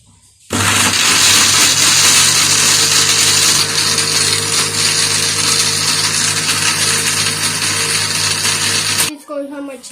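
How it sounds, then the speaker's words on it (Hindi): Electric blender whirring loudly and steadily for about nine seconds as it blends falsa berries, sugar and water into juice, starting and stopping abruptly. "इसको हम अच्छे से जो है वो ब्लेंड कर लेंगे।"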